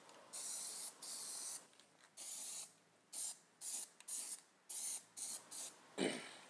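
PlastiDip aerosol spray can coats the spokes and top of a car wheel in a series of short, sharp hissing bursts, about a dozen sprays of varying length with brief pauses between them.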